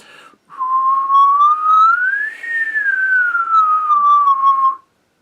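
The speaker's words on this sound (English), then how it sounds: "You can also try whistling if you're able to whistle" One person whistles a single sustained note during a trumpet warm-up, sliding smoothly up in pitch and then gliding back down over about four seconds, close and clear with no talking.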